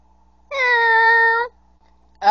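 A toy pet Gleep, a Ben 10 kitty-cat creature, gives one clear, loud, sustained meow lasting about a second, alone and close, with the start of another sound cut off at the end.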